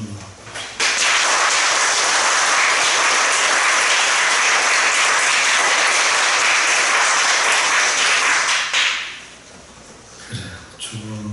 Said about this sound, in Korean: 격려하는 박수 한번.